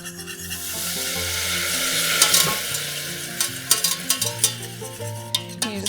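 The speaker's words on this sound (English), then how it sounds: "while we whisk in here so it stays nice and smooth." A whisk scrapes and swirls as chicken broth is poured into a butter and flour roux in a pot, a steady stirring rasp with sharper clinks of metal against the pan toward the end, heard alone.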